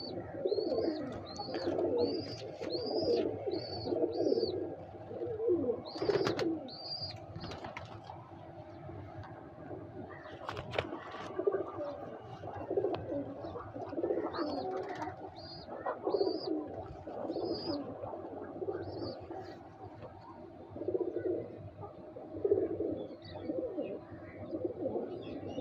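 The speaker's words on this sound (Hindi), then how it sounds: "ये बहुत खूबसूरत कबूतर, अभी हैं क्रीजे में" Sialkoti pigeons coo repeatedly and rhythmically, close by in a coop. Scattered chirps and light rustling continue throughout at a moderate, steady level.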